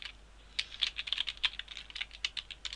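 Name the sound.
typing on a computer keyboard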